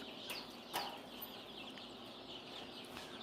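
Baby chicks of a barnyard breed in a coop, giving several short clucks and peeps close by over a soft, continuous rustling background.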